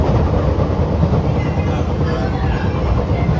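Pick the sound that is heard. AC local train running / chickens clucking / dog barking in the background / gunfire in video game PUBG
AC local train running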